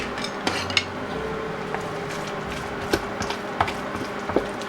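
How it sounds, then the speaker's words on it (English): A spoon mixing mashed ingredients in a bowl for a Halloween kitchen recipe, giving soft scraping with sharp clinks of metal against the bowl at irregular intervals, close and alone. "Now let's give them a good mix."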